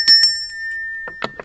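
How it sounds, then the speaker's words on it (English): A bright bell rings twice close up with a long shimmering ring-out, followed by a quick cluster of lighter metallic dings near the end in an otherwise quiet setting. "You guys need to tell me if you like that bell or if you don't like that bell"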